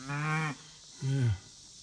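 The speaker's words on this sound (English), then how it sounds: "Oh, that's Mama Cow. She came back. She came out of that corral" A mother cow in a big cattle pasture near a corral lets out two loud, close moos, the first longer and steadier and the second falling in pitch, with a short quiet gap between them.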